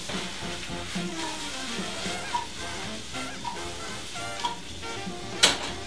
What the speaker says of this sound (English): You're just gonna wanna let them fry for about 3 to 6 minutes, depending on the size of your pan